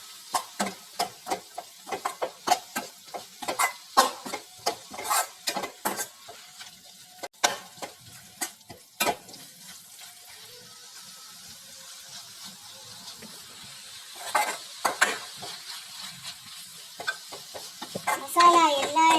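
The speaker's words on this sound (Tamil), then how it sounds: "மசாலா எல்லா இடத்துலையும் பட்டா மாதிரி கிண்டி விடுங்க" A spoon scrapes and taps rhythmically against a pan as prawns in chilli and turmeric masala are stirred, with a soft sizzle underneath and occasional voices nearby.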